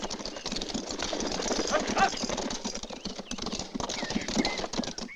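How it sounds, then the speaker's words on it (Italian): Horse hooves clip-clop in a galloping rhythm through a busy, dense mix, with voices shouting and talking over the scene. "Guardate là, c'è un cavallo che galoppa!"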